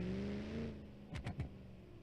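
A small-block V8 with a race performance block, no nitrous, revs in BeamNG.drive. A steady engine drone rises in pitch, then three sharp, quick throttle blips stab through near the end, close and fairly loud.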